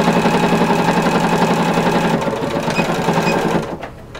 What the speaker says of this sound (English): So I've sewn the seam.